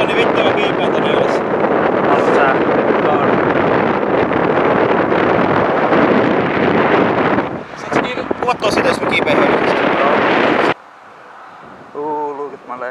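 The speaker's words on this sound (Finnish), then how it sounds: "mutta tuuli vaan voimistuu" Heavy wind high on a radio mast roars and buffets a close microphone for several seconds, then cuts off abruptly, leaving quieter background with a few voices.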